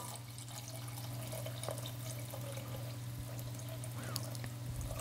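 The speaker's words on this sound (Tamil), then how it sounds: "இந்த பிரியாணிக்கு தேவையான தண்ணி சேர்த்துக்குவோம்." Water pouring steadily into a pot of tomato biryani, a soft continuous splash and trickle over a faint background hum, close by and quiet.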